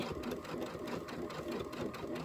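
A sewing machine stitches a Kimberbell Lucky Us pillow, a steady, fast mechanical whir with rapid needle pulses running continuously and close up throughout.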